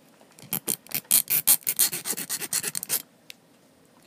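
A metal file rasps against a crystal stone in a quick burst of about a dozen sharp, close strokes, each a bright gritty scrape, then stops abruptly into near silence.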